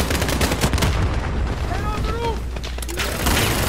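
Minigun firing in Call of Duty Modern Warfare, dense continuous gunfire with mechanical whir and scattered booms, close and loud throughout.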